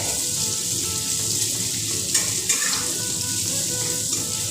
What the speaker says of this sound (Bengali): পেঁয়াজ কুচিটা দিয়ে দিলাম, হালকা একটু ভেজে নিচ্ছি এটাকে।